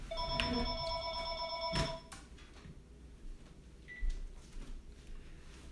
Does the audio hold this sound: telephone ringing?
yes